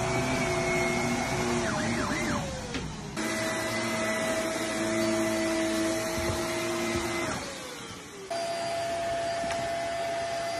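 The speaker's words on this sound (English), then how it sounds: "I found a pig that really, really hates vacuum noise." A vacuum cleaner runs steadily with a loud whirring hum and shifting tones, while a pig reacts with rising and falling squeals layered over the motor noise; no talking.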